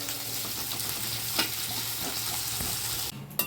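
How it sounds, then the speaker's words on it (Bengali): Drumsticks and vegetables frying together in a pan for a vegetarian ash gourd lentil dish, a steady close sizzle with a low hum and occasional stirring scrapes, no talk. "যেমন দেখো ডাটা একসঙ্গে দিয়ে ভেজে নিচ্ছি"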